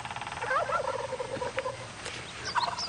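A wild turkey gobbles in a quick, loud, warbling burst outdoors, followed by a few scattered higher calls.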